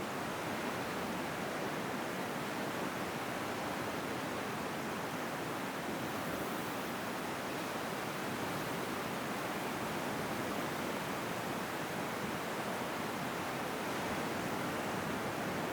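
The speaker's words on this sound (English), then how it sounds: "Listen to your breath and the sound of the ocean." Ocean surf washes in as a steady, soft wall of hiss and rumble that holds level throughout, calm and distant, with no voices.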